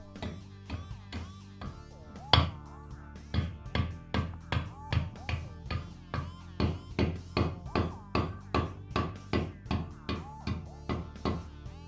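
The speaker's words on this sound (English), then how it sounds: "Now I'm going to disassemble the front knuckle. I start by removing all 4 of the studs," A hammer strikes steel wheel studs to drive them out of the front suspension knuckle of a 1987 Acura Integra, a steady series of about two dozen loud, ringing metallic blows close by, quickening into an even rhythm.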